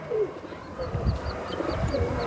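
A Banarasi pigeon from Allahabad is handled at close range, with soft low cooing and faint rustling from its body and wings. Background noise continues throughout, and a few brief higher chirps come and go.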